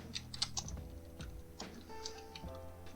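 Fingers type on a computer keyboard in quick, irregular bursts of light clicks and taps, close and fairly quiet, with no voice over them.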